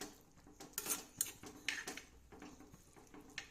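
A ladle stirs prawn masala in a cooking pan, giving a run of quiet metallic clinks and scrapes in an irregular rhythm, close by and fairly soft.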